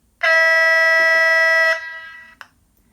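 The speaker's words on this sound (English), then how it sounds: "here's air horn 1." A Hornby Colas Rail Class 56 model locomotive's DCC sound unit sounds its first air horn: one loud, steady, harmonic-rich blast of about one and a half seconds that fades off, followed by a brief click.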